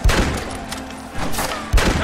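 Gunfire in a Red Dead Redemption battle against the United States Army, with bursts of rapid shots clustered at the start, a quieter stretch, then renewed volleys near the end, close and loud.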